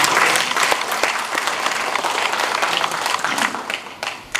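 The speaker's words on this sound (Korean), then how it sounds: "우리 박수를 한번 보내주시면" Audience applause at a gathering in Choryang, Busan: a dense, loud, sustained wash of many hands clapping, heard on its own for the full stretch.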